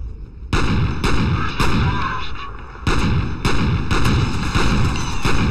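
Pistol gunfire in the video game F.E.A.R., a series of loud, sharp shots in irregular bursts, each with a ringing decay, close and dominant with no voices.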